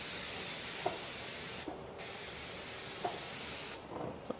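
A Graco 490 XT airless paint sprayer hisses in two long continuous bursts spraying trim, with a short gap between, a loud close broadband spray that cuts off cleanly each time.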